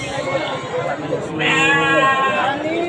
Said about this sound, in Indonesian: Kita bakal ngikutin Mas Andri pembelian kambing